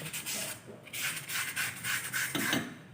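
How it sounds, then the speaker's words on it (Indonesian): Close, continuous scratchy sanding on a brake disc in short back-and-forth strokes. "Piringan cakram kita amplas."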